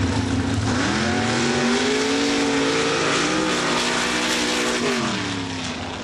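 Mud truck called the Swamp Thing racing at a mud drag event in Laporte, Indiana, its engine roaring loud and close with rising and falling revs over several seconds, then easing slightly at the end.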